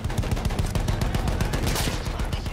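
Rapid, steady bursts of suppressing gunfire in a Battlefield 1 battle, loud and close, rattling on without pause.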